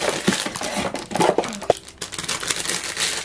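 Plastic and paper packaging crinkling and rustling up close as a spring clothing order with a belt is unboxed, in continuous busy bursts with a brief quieter moment midway.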